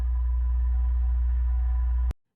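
A synthesized sound-design tone for a whiskey bottle in a film hums as a steady, low, sustained drone for about two seconds, then cuts off abruptly.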